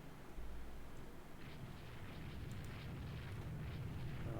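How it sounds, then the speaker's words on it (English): Naval bombardment in Rule the Waves 2, set around 1900, rumbles as a continuous, dense roar of distant shell explosions and booms, steady and heavy with no clear gaps. "And here we see it, another bombardment"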